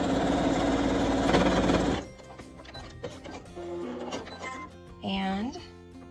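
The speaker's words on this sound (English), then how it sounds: "We're gonna top stitch right over that hole." Sewing machine top stitching a fabric face mask: a loud steady whirring run for about two seconds, then quieter start-stop bursts of stitching with a person talking over it.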